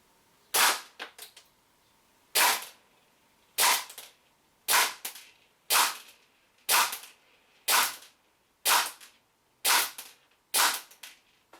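Single shots from a WE P90 gas blowback airsoft SMG on a 10-metre range, eleven loud sharp cracks fired one at a time at a steady pace of roughly one per second, each with a brief mechanical clack.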